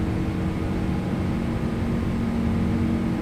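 Aircraft engines drone steadily inside the cabin during a climb, with rain outside; a continuous, loud, even roar with a low hum that never lets up.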